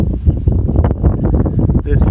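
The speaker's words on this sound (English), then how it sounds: "you'll have to pardon the wind today, it's very windy" Strong wind buffets the microphone outdoors beside an LMC 7210P screener, a loud rumbling gust under a man's speech.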